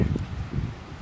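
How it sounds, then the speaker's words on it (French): Steady wind blows across an outdoor organic strawberry patch with about 180 plants, a constant rumbling buffet over the microphone with faint rustling, continuous and fairly close. "Alors il y a du vent aujourd'hui."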